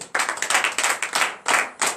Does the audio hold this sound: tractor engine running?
no